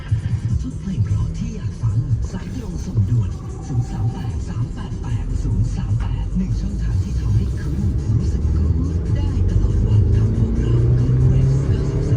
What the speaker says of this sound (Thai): ครับรถขับดีเลยนะครับ ผม ช่วงลงช่วงล่างแน่นเลยนะครับ